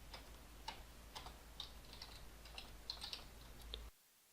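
Quiet, close keystrokes on a computer keyboard tap out a short password in an irregular burst of clicks for a few seconds, then stop into silence.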